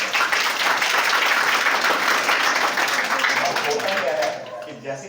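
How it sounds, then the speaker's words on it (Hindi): Students at a workshop clap together in a quick, dense burst of applause that carries on steadily, then thins out and stops near the end. "अपने लिए तालियां बजाएं जरा जल्दी से"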